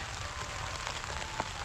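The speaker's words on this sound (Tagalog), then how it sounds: "tayo po ay inabutan na ng ulan. Ang lakas po." Heavy rain falls outdoors on a farm field, a steady, soft, hissing patter with scattered drop ticks, fairly quiet and with no talking.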